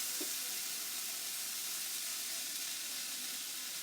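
Frozen corn sizzles steadily in hot oil in a stir-fry pan, a loud continuous hiss and crackle close up with no talking.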